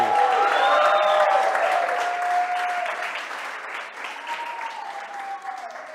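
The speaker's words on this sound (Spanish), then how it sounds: "Dale un fuerte aplauso al Señor y un grito de júbilo a Él." Church congregation clapping and cheering together, a dense wash of applause with a sustained shout of jubilation rising over it, loud at first and gradually thinning.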